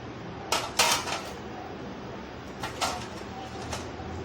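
Shalgam gosht, a turnip and meat curry, being dished out of the pot, with a few soft scrapes and clinks of a spoon against the cookware over quiet room tone.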